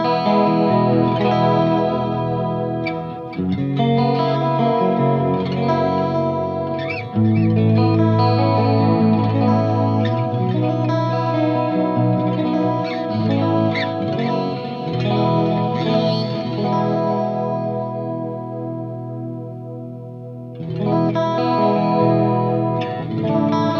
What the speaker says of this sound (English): I'll turn on the Julia chorus and my Flashback 2 delay pedal.